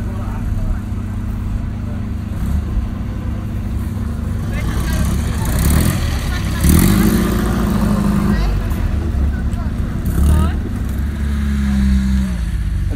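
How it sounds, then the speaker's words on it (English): A classic Jaguar E-Type engine rumbles and revs as the car pulls away from a car meet at Classic Motor Hub, a loud, steady drone with rising revs, while people talk nearby. "An all-time classic E-Type leaving Classic Motor Hub."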